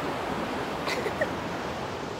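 Ocean waves wash steadily onto a beach in a broad, continuous hiss of surf, moderately loud with no speech over it.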